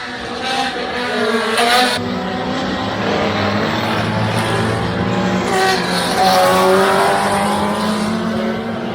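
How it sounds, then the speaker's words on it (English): Historic Formula Junior race cars compete at the Goodwood Members' Meeting, loud engines rising and falling in pitch as several cars roar past, with overlapping passes and a continuous racing din. "yesterday we had some epic racing, as you can see in the little clip here"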